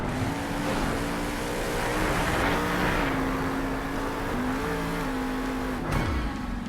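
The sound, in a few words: Grave Digger monster truck engine revving while doing donuts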